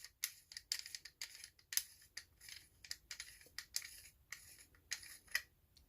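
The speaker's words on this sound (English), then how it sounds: "So you're going to unscrew the pommel." An Ultrasabers Dark Force lightsaber pommel is unscrewed up close, making quiet, quick ticks and scrapes of threads turning in irregular bursts. No voices.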